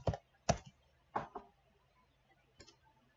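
Computer keyboard typing at a desk, a few sparse sharp clicks spaced out over a few seconds, near and fairly quiet, with no voices.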